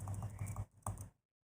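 Quick bursts of computer keyboard typing, several rapid clustered keystrokes, a short pause, then a few more before silence; close and clear with no talking.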